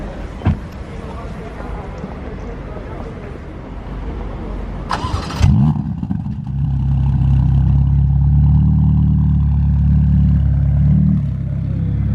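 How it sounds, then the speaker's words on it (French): A Ferrari Roma starts up amid a crowd near a Bugatti Chiron, with a sharp burst of cranking followed by a loud rumbling idle and revving as it pulls away. People talk throughout, over background chatter. "Charles Leclerc qui part avec la Roma"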